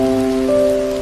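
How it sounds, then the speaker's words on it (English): Steady rain falling with a soft, even hiss throughout, accompanied by a sustained humming tone in the background; no one speaks. "It's still raining."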